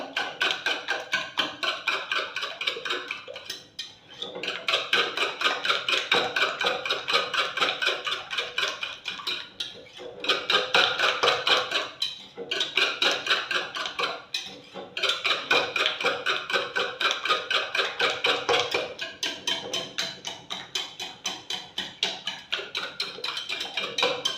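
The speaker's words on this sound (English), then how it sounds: "Whisk it very well." A whisk beats butter-cake batter in a bowl, a steady rapid scraping rhythm that runs alone in long bursts with a few brief pauses.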